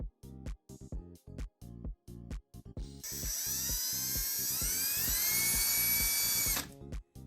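On a GHome KD10 SE2 smart lock, a short run of rhythmic mechanical clicks leads into a power screwdriver's sustained high whine as it drives the interior assembly screws. The whine lasts about three seconds, then cuts off abruptly.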